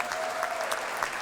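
A crowd at a fire station grand opening applauds Chief Luke, giving a brief burst of steady clapping.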